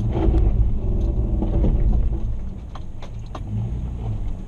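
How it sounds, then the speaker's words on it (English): A 4x4 vehicle on an off-road track at Groenkloof, with a deep close engine rumble and intermittent clicks and creaks from the brakes engaging as it slows. "You can hear the brakes engaging."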